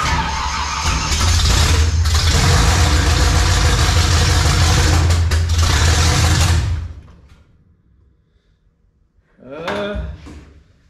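A 1955 Chevy V8 fires up for the first time and runs loud and rough for about seven seconds, then shuts off; after a pause a short burst sounds as the carburetor backfires.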